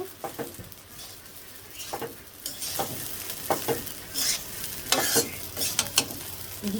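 Polao rice frying and being stirred in a pan, a steady sizzle broken by repeated scraping stir strokes, close and loud with no talk.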